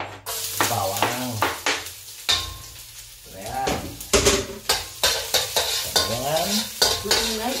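Garlic hisses in a hot oiled pan while a spoon or spatula stirs and scrapes it in repeated bursts, with someone talking over the cooking.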